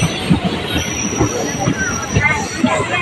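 Train pulling into Moridhal station in Assam, rumbling close by with squealing wheels and rhythmic clunks, while a crowd murmurs on the platform.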